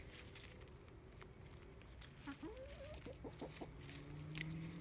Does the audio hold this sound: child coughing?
no